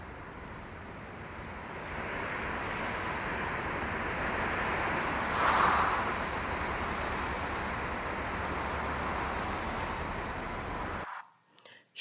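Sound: wind blowing

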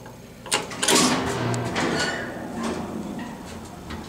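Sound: vintage Westinghouse elevator motor running

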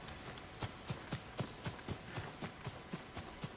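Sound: horse hooves approaching in the video game Ghost of Tsushima

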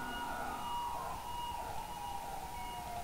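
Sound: ambulance siren

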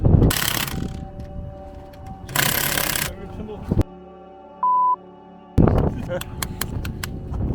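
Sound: ratchet mechanism tightening on a car

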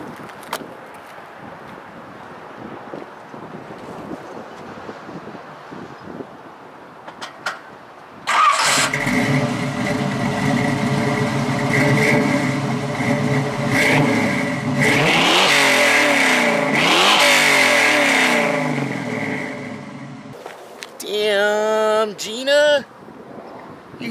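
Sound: 1968 Camaro restomod engine starting and revving

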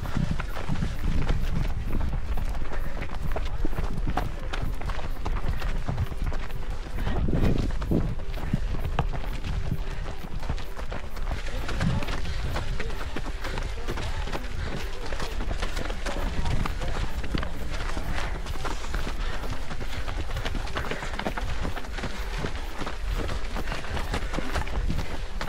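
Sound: footsteps of a runner running uphill during a 10K race

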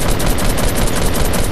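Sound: gunfire in the Fortnite video game

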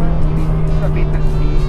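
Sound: Ferrari 308 car driving at full throttle

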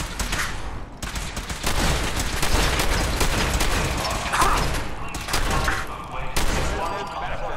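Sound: gunfire from a gun in the video game Fallout 4

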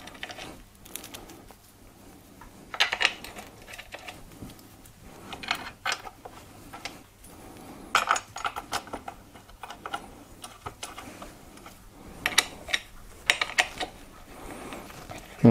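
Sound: screws being reinstalled and tightened on gaming chair base

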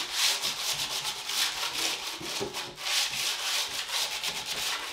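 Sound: sanding a painted wooden panel

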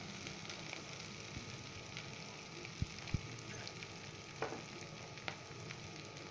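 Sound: radish and vegetables being stirred and frying in pan for sambar

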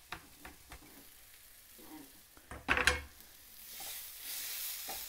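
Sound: onions, garlic, ginger and green chilli sizzling in pan

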